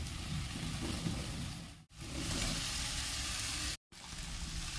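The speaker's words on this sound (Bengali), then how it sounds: "ভাজা আলুগুলো ওপর থেকে দিয়ে দেবো" Fried potatoes go into a pan of hot oil with aloo dum spice mix and a little water, giving a loud, steady sizzle that cuts out briefly twice.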